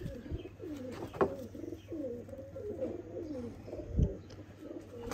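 Pigeons coo in a close loft, soft rolling calls repeating steadily through the whole stretch, with a few brief knocks and flutters among them.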